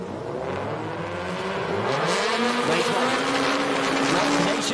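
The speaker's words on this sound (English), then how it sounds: "We have the green light, and Vettel bogged down" Racing cars launch off the line at a Race of Champions Nations Cup final in Mexico, with engines revving and rising in pitch as they pull away. The sound is loud and close, with crowd and commentary noise in the background.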